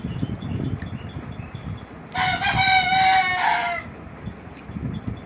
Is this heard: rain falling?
no